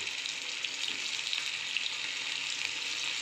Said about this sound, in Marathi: आता मी सर्व पनीर ह्याच्यामध्ये शालो फ्राय करून घेतो.